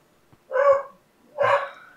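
A house dog barks at people out in the driveway, giving two loud, full barks about a second apart, close to the microphone in an otherwise quiet room.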